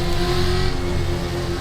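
A Gen 3 V8 Supercar in a racing game mod holds a loud, steady engine drone at close range, with no talk over it.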